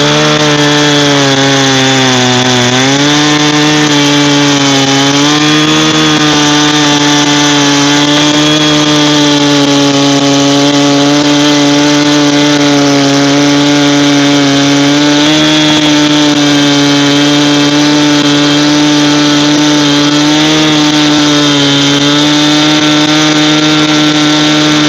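A Husqvarna chainsaw cuts through logs, its engine droning loud and steady for the whole stretch, with slight pitch dips as the chain bites into the wood and no voices.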